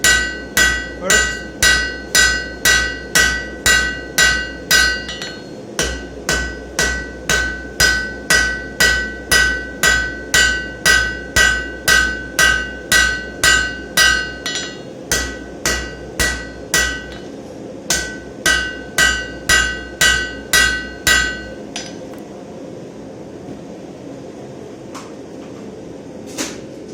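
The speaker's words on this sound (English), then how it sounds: "I put it at the edge of the anvil, and I strike with an angle of my hammer just over the edge." Blacksmith's hammer on hot steel at the edge of an anvil while forging a square point, a long run of steady, evenly spaced ringing blows with brief pauses between runs, close and loud, then a quiet tail.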